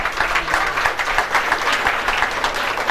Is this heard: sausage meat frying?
no